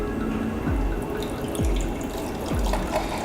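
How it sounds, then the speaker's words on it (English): Wine is poured into a glass in a restaurant setting, with a few short liquid splashes and glugs in a steady rhythm, close and fairly loud, with no talking. "And then you pour your wine"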